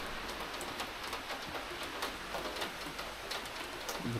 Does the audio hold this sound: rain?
yes